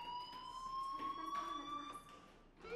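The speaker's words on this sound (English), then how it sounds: "do you hear that fire alarm?" A fire alarm in the video game Life Is Strange rings with a steady electronic tone, heard fairly quietly under a few other faint sounds and a brief bump of noise.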